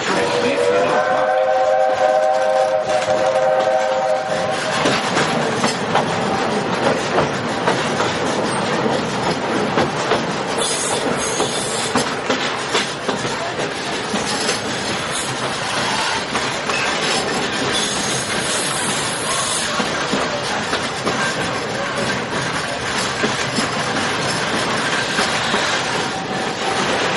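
A Walt Disney World Railroad train rolls along with a loud, steady rumble and clickety-clack, its whistle sounding early on and then again later, with some voices in the background.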